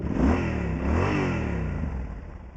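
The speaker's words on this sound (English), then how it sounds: "That's a little revving. I'll get on this side and try and rev it." A motorcycle engine revs up close, rising and falling in pitch twice before settling back toward idle.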